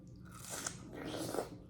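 Crunchy bite into watermelon topped with tahini, a couple of close, moist chewing crunches heard alone without talk.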